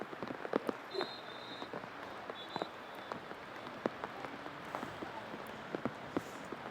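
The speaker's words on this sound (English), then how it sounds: "I know the weather is cool and raw and rainy" Rain falling during an outdoor girls' varsity lacrosse game in cool, raw weather: a faint, steady patter with scattered sharper drops ticking throughout, and no talk.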